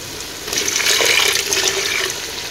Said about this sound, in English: Then I'll add some water. First of all, let's add some water in here.